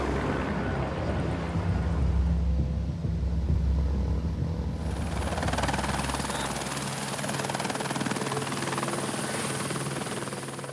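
A firefighting helicopter drones loudly overhead with a deep rotor rumble, and partway through a high turbine whine joins the steady roar.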